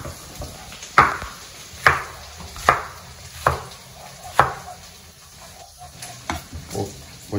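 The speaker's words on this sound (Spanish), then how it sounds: "Voy a picar este serranito para que darle un saborcito, más o menos." A knife chops a serrano chili pepper on a board in a home kitchen: five sharp, evenly spaced chops, then a few softer taps, with a faint sizzle from a pot in the background.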